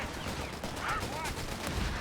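Gunfire crackles in a World War II battle in the game Company of Heroes 3, with a grenade burst among rapid shots and thuds. The firing runs continuously at moderate distance, mixed with faint voices.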